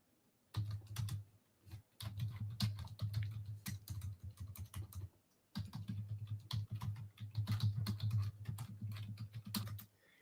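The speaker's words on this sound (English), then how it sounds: "don't you love some good ASMR, some good keyboard typing ASMR?" Computer keyboard typing close to the mic, fast rapid clicking keystrokes in two long bursts separated by a brief pause, crisp and steady with no talk.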